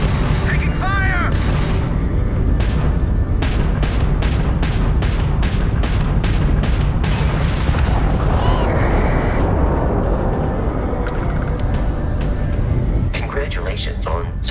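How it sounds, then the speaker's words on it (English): Starship combat in Starfield: a rapid burst of loud ballistic gunfire followed by a heavy rumbling explosion, with chirpy electronic bleeps and voices speaking over the battle. "Taking fire!"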